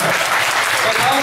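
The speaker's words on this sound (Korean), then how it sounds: "네, 여기서 박수를" Audience applause in a hall during a Bareun Party leadership candidate debate, a steady dense wash of clapping filling the whole moment with voices mixed in.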